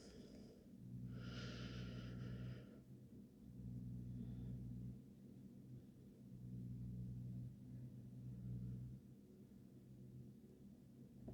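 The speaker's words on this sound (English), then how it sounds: "Breathing deeply." Slow, deep breathing during a yoga child's pose, faint and close, with about three long, rhythmic inhale-exhale cycles and a brief sniff-like rush near the start.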